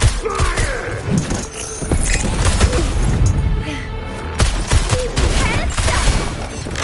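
Rapid gunfire and heavy impacts in the video game Wuthering Waves, a loud, dense fusillade with thuds and shattering bursts running throughout, with a voice briefly heard over the action.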